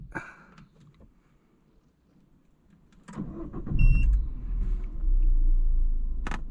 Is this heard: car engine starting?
yes